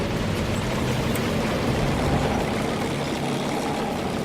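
In World of Tanks, a Type T-34 tank engine with a modded sound rumbles steadily and continuously as a dense, fairly loud drone throughout.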